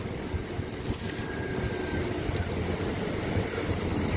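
A fishing boat's motor runs steadily out at sea, a continuous broadband rumble with wind and water noise holding at a constant level throughout, no voices.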